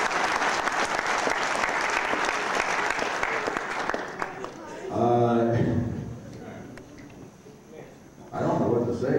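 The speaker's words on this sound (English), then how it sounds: "please a big round of applause once again for this" Applause from an audience at a lifetime achievement award event, steady clapping for about four seconds before it drops away and voices take over, talking in the room.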